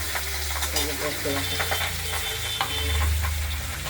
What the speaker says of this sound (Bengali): কড়াইতে তেল দিয়ে ভেজে নিচ্ছি।